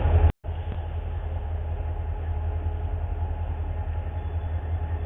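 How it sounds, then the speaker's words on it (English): A train rolls past near a cemetery, a steady low rumbling drone with continuous rail noise, fairly close and unbroken apart from a brief dropout at the start. "There is a train over there. It is coming through now."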